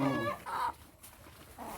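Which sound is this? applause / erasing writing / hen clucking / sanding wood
hen clucking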